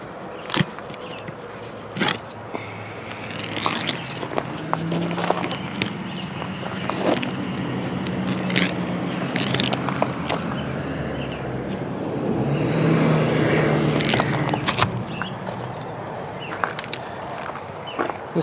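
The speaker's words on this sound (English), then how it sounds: "I'm just going to pull this all off." Brittle, aged RV trim insert molding is pulled off a trailer by hand, giving a long run of irregular cracks, snaps and scraping rustles up close.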